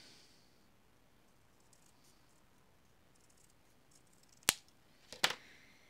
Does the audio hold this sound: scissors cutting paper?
yes